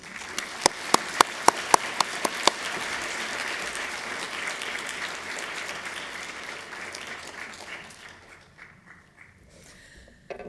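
An audience at an evening art lecture in Chicago breaks into sustained applause to welcome the speaker, with a few sharp nearby claps early on, then a dense wash of clapping that fades away near the end.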